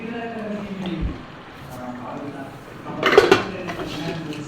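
A spoon stirring crab curry gravy in a metal pot, with soft scraping at first and then a cluster of louder clinks and scrapes against the pot about three seconds in. Someone talks over the stirring.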